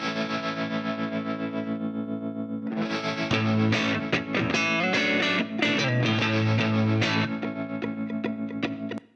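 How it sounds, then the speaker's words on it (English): Electric guitar with a tremolo effect playing in a full band mix, its pulsing chords loud and steady, sparse at first and then joined by drums and other instruments. "there is an extra guitar with kind of a tremolo effect on it"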